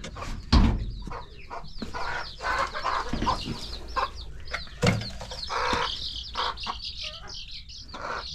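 Chickens cluck and squawk in a busy, overlapping chorus, with scattered chirps and a few sharp bursts, fairly close and continuous.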